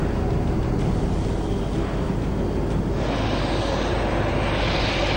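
A Citation jet, the fastest aircraft in a police air fleet, flies past with a steady broadband engine roar that stays loud throughout, easing slightly in the upper range toward the end.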